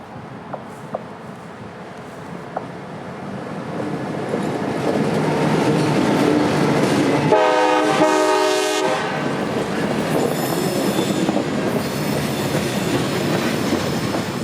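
A CSX freight train on the Kingsland Subdivision rumbles past loud and close, its horn blaring a sustained chord midway while the wagons roll by continuously.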